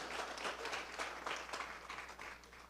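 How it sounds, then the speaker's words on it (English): Audience applause at a carnival awards ceremony, a steady wash of many hands clapping at moderate distance, sustained throughout without pause. "Can I have an applause for the Carnival Committee for the great job they're doing?"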